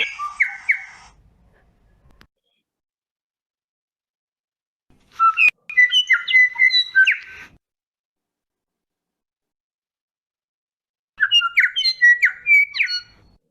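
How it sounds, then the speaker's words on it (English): Three separate bursts of bright, whistled bellbird song, each a quick run of ringing chirps and warbles, separated by long silences. "these audios are from bellbird species"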